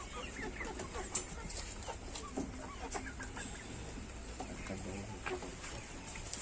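Chickens and a rooster clucking steadily around a farmyard, with short clucks and occasional sharper calls close by, some faint voices in the background.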